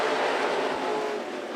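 A pack of non-wing sprint race cars at Monarch Motor Speedway accelerates hard together on the green flag, a loud, dense engine roar that holds steady for a moment before easing slightly.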